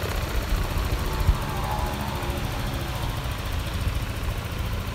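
Yamaha Aerox S scooter engine running after starting, a low steady idle hum with faint irregular putter, fairly quiet and continuous, no talk over it.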